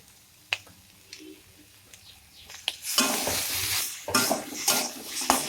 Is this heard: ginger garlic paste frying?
yes